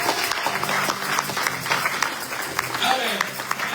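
Church congregation applauding and acclaiming God during a French-language evangelical service, dense clapping with cheering voices mixed in throughout.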